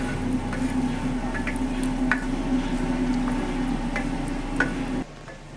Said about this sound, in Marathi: मिरची तुकडे केले की मग मिरच्या अशा अंगावर उडत नाही आधी आपल्याला अशाच भाजून घ्यायचे तेल न टाकता